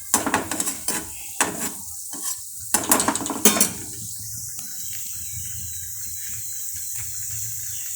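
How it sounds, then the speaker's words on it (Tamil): A handful of cashews tempering in hot oil in a small pan, with a series of sharp metallic stirring clinks and scrapes early on, then a steady, close sizzle hiss continuing on its own. "கொஞ்சம் எண்ணெய் ஊற்றி முந்திரி வச்சுருக்கோம், ஒரு கைப்பிடி அளவு முந்திரி, அதையும் நம்ம கொஞ்சம் தாளித்து சாம்பார் சாதத்து மேலே கொட்டிடலாம்."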